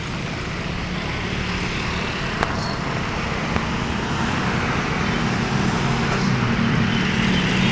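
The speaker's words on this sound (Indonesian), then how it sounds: "Bus Putra Pelangi jurusan Bandung Banda Aceh." Traffic passes along a roadway as the Putra Pelangi intercity bus, running from Bandung to Banda Aceh, goes by. The engine and road noise form a steady, loud, continuous wash with no voices.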